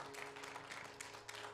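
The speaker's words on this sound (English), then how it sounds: "Someone give a big round of applause." Faint, distant applause from a church congregation, a soft steady patter of clapping with a low hum beneath it, lasting only a moment.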